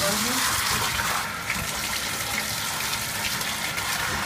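Tap water runs steadily throughout as a bulldog with a tummy rash is bathed with antibacterial soap, a continuous close wash of flowing water filling the scene.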